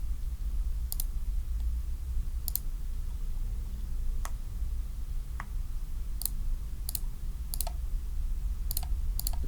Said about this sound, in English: It's a lot of clicking though.